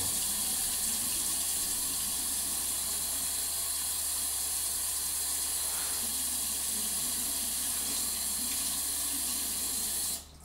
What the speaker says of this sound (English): Just going to get a little bit of water going here for